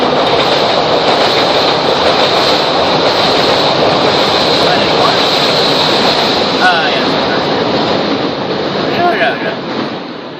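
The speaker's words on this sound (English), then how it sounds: "Better ask quick, because I think there's a train coming" A train rumbles past close by, loud and continuous with clattering wheels and a high squeal, voices faintly underneath.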